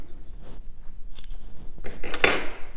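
Scissors snip through crochet yarn close to the microphone, with a couple of light handling clicks and then one crisp cut.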